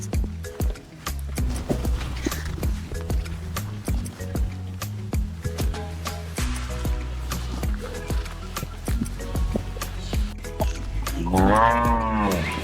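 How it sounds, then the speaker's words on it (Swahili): Cattle low repeatedly, deep drawn-out moos close by, with scattered animal movement and a rising call near the end. "Nasikia ng'ombe"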